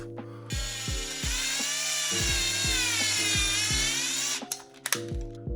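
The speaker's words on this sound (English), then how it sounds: "You're gonna need to drill a hole through the handle, well, right there. Oh, the drill bit I use is 5/16." A power drill bores a 5/16 hole through the handle of a GPStar Supreme Kit wand, a steady high whine with stuttering bursts of the bit biting, loud and close, then winding down near the end.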